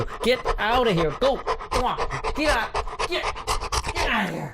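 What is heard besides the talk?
large dog panting beside podcast guest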